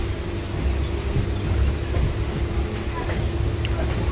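A Kolkata Circular Rail local train pulls away from Majerhat with a low steady rumble and motor hum, moderately loud, while muffled voices murmur in the background.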